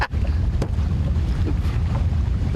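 Wind rumbles across the microphone from a fishing boat on Lake Cochrane, a steady, heavy low buffeting roar with a sharp gust near the start and no one speaking.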